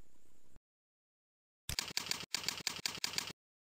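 A computer keyboard is typed on nearby in a quiet room, with a quick burst of about eight crisp keystrokes after a silent pause.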